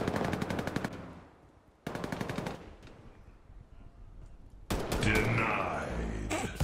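Rapid automatic gunfire from a video game gun with strong one-shot power, loud close bursts in several runs separated by short gaps, with a voice talking at points.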